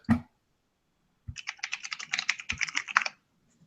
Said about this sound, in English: Tommy's over here going nuts on that keyboard.